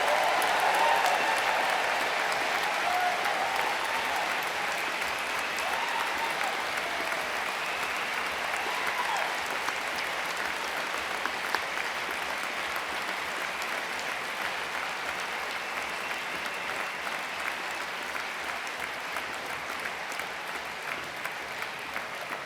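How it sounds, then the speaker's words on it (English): An audience at a university graduation ceremony gives a sustained round of applause for award and prize recipients, a dense, steady wash of clapping lasting over twenty seconds that fades only slightly toward the end. "applause."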